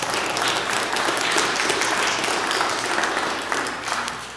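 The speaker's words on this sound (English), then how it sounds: "I think that probably deserves a round of applause" A church congregation applauds steadily for a person serving in Christ's service during worship, a dense wash of many hands clapping at an even level the whole time, with no talk over it.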